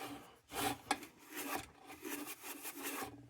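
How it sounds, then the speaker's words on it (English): Steel wool scrubs the thin air tubes of an Ohio tubular lantern in short, close strokes, a soft raspy rubbing that rises and falls with no talking. "I'm going to be very careful steel wooling up on these air tubes"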